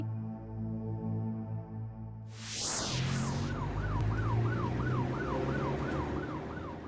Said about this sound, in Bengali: ওই তো অ্যাম্বুলেন্স গেল